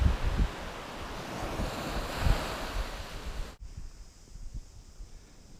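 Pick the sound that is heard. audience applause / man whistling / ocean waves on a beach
ocean waves on a beach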